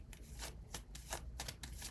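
A deck of tarot cards being shuffled by hand, a quick run of crisp papery riffles and flutters in several close bursts with no talk.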